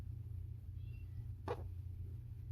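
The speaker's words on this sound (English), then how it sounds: "That's just Minnie Moo, my cat, saying hello to you" A single short cat meow in a kitchen, faint against a steady low background hum, occurring once midway.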